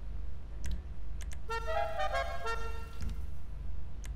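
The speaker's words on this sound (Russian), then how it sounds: "Так, вот клаксон." A Lada Zhiguli car horn in Grand Theft Auto V sounds one steady honk of about a second and a half, with soft menu clicks before and after.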